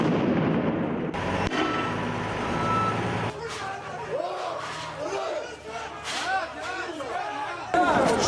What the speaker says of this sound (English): protesters threw stones at police, who responded with sound grenades and tear gas